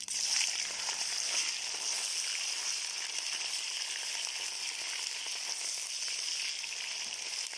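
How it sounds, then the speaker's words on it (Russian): Meat sizzles and fries steadily in a hot kazan cauldron set over a grill, a dense, even crackling hiss that holds loud and close throughout with no voices. "Обжарим до золотистой корочки, потом следующие овощи."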